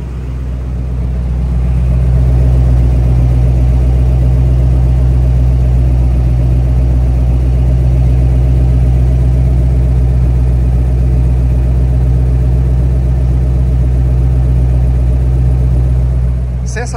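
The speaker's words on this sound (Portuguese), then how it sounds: "Ó, ó a lenta desse carro." A 1981 Ford F100 pickup's V8 engine idles close by, a loud, steady low rumble that holds an even, unbroken drone from start to finish with no revving.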